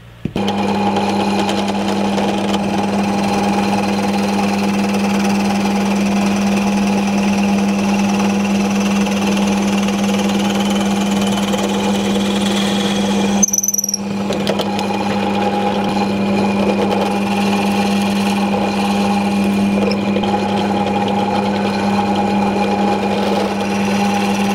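A drill press bores holes in steel jaws for a homemade drill press vice, making a loud, steady motor whine with a constant hum. There is one brief break partway through, and no voices.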